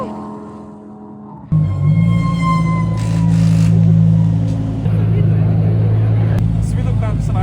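Audi R8 race car engine starting up abruptly and holding a loud, steady roar with slight rises in pitch, close by, while people talk over it.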